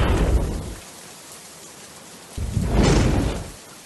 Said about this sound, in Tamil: மோட்டர் போட்டா மழை பெய்யும்.